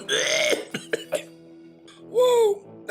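A voice imitates violent coughing after gulping a strong drink, with a few harsh throat-clearing hacks and a strained, choking cough, loud and close.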